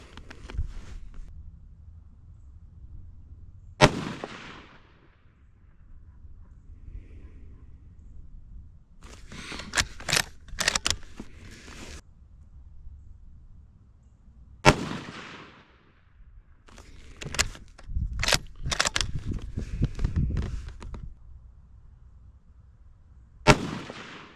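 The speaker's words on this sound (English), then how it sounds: "Now we're going to be shooting at the bottom left." Rifle shots from a Ruger American Gen 2 chambered in .223, fired at an outdoor range: several sharp, loud single reports spaced seconds apart, some in quick clusters, with quiet gaps between.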